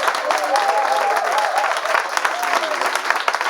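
Studio audience applause in a TV studio, a dense burst of close clapping mixed with cheering voices and a sung or held vocal tone underneath.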